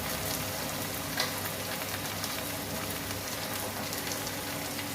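Onions frying in a pan with cloves and black peppercorns for a mutton curry, a steady soft sizzle with faint crackles, close and continuous, no talking.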